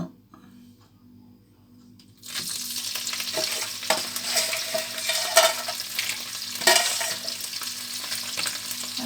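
After a quiet low hum, shrimp and crab hit a hot pan and sizzle loudly, with stirring clicks and scrapes as they are tossed around.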